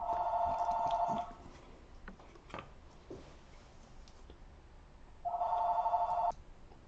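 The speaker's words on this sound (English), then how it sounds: "as you heard that phone ringing, it always does when I'm playing" A telephone rings twice during a tabletop game session of Abyss, each burst of trilling bell a little over a second long, separated by a pause filled with faint handling clicks.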